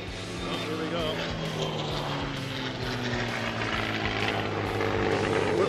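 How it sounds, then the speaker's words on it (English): An airplane passing over an air show, its engine drone rising and falling at a moderate distance, heard under people talking. "We're at an air show, so there's going to be airplanes"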